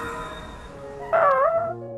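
Shidogi, a dog-like anime creature hurt and in pain, lets out a tonal whimper that bends up and then down. The cry sits over a low ambient hum, is fairly loud and close, and trails off into quieter tones.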